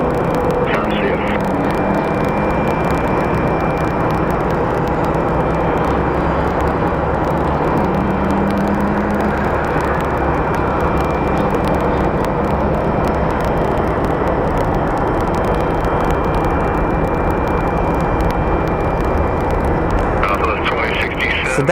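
A jet airliner at Phoenix Sky Harbor airport pushes back and taxis, its engines a loud, continuous rumbling whine that holds steady throughout, with a person talking over it.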